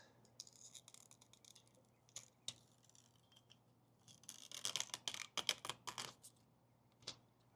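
Curing strips being peeled off a resin windshield chip repair on a car, a faint close scratchy rustle that builds into a denser run of sharp crackly ticks toward the end, with no talk.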